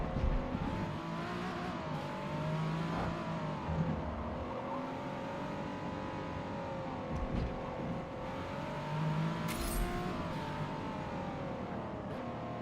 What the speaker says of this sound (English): So what do we think of a V6 sound